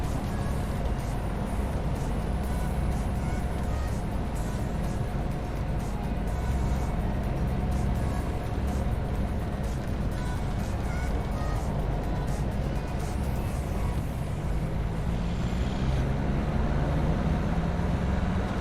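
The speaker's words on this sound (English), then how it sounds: "Those sounds for the outside vehicles are a little loud to the point where it sounds like I have no soundproofing in the truck at all." Steady low rumble of passing outside vehicles heard from inside a truck cab on the road, a dense continuous traffic drone with engine hum and road noise, moderately loud throughout with no talking.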